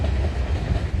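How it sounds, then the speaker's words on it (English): CN freight train E434 rolling past close by on its run from London, Ontario, a steady loud rumble of wheels and cars on the rails with no voices. "Symbol on this train is CN E434."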